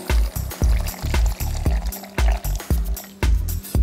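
Filtered water is poured over cornflour in a kitchen while making malabi, giving a series of close, loud, gurgling glugs in an uneven rhythm, with a few faint clinks between them.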